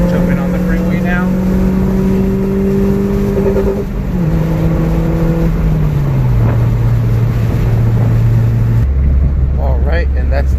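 A tuned car accelerates onto a freeway, its engine note rising through each gear and dropping at every shift, loud and close from inside the cabin.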